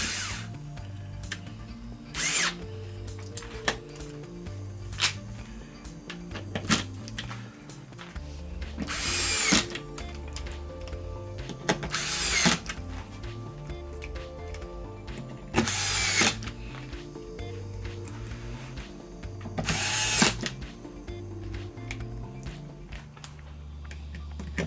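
A power driver sets a grounding screw into a board on a plastic TV chassis from a 55 inch Vizio smart TV, giving several short whirring bursts separated by pauses and clicks, close and fairly loud, with no talking.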